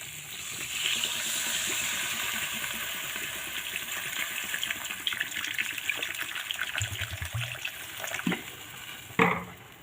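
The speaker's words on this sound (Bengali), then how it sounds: "আমি এখন এর মধ্যে পরিমাণ মতো জল ঢেলে দেব।" Water gushes steadily into a pan of katla fish curry with potatoes and fried spice paste, a continuous close pour lasting several seconds before a few brief clanks near the end.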